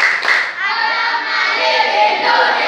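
A group of children clapping together in a classroom clapping game about ASEAN countries, a dense, steady wash of many hands that stays loud and continuous throughout.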